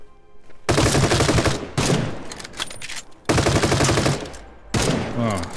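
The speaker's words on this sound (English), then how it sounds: "I don't know who's firing at me." Heavy gunfire from the survival shooter game The Front rips out in long, loud automatic bursts with brief gaps between them, up close and dense.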